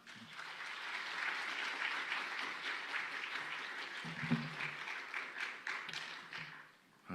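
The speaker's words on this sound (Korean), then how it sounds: "따뜻한 박수 환영해 주시기 바랍니다" A church congregation at a Wednesday prayer service claps warmly to welcome the pastor, a dense, even round of applause lasting several seconds before thinning out, with a few thumps and a brief murmur partway through.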